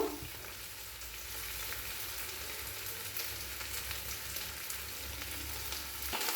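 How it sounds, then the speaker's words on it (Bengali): Spice paste frying with onions in a pan for ghugni: a steady, close sizzle that runs continuously, with light stirring and no talking. "এই পেঁয়াজের মধ্যে এই মশলার পেস্ট দিয়ে দেব, পুরোটাই দিয়ে দেব।"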